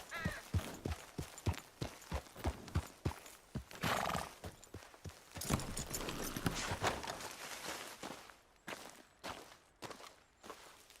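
A horse in Red Dead Redemption 2 clops along at a steady gait, hooves striking in a close rhythmic beat, with a brief whinny near the start and a louder rustling surge midway.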